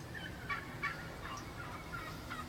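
Wild turkeys gobble in a field, several bursts of gobbling from long-bearded toms at moderate distance over a low outdoor hum, with no voices.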